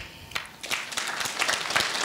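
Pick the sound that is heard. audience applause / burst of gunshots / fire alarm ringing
audience applause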